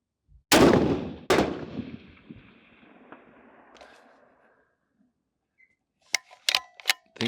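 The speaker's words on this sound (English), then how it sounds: "I want to shoot one on" Rifle fired at an outdoor shooting range. Two sharp, loud reports land close together, and each rings out with a long fading echo. A few faint clicks and clacks follow near the end.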